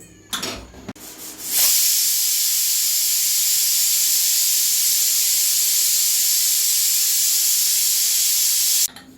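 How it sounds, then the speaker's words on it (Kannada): Steady, loud hiss of steam venting from a pressure cooker whistle while cooking broken-rice uppittu, sustained for several seconds after a few brief clatters, then cutting off abruptly. "ಕುಕ್ಕರ ಮುಚ್ತೇನೆ ರೀ ಮೂರು ಸೀಟಿ ಮೂರು ಸೀಟಿ ಹೊಡೆಸ್ತೇನೆ ರೀ"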